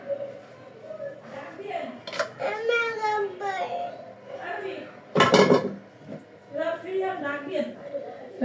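Utensils stir and scrape food in a pan while frying a sola vegetable dish, with sharp metallic clanks and clatter, the loudest burst near the middle, under nearby adult talk and a voice.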